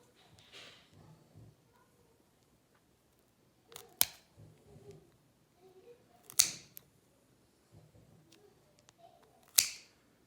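Nail clippers cutting a dog's nails, three sharp crisp snips spaced a few seconds apart, close and distinct, with soft handling rustles and quiet movement in between.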